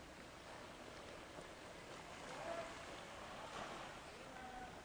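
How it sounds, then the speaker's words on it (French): Ocean waves breaking on the shore at a seaside town, a steady broad wash of surf with gentle swells, faint and continuous, without talk. "Vous pouvez entendre le bruit des vagues."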